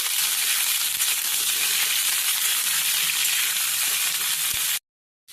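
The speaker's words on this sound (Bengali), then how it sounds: "পটল একটু নেড়ে চেড়ে ভেজে নেওয়া হচ্ছে।" Pointed gourd (potol) stir-frying in a kadai gives off a steady, loud, continuous sizzle with no voices, then cuts to silence near the end.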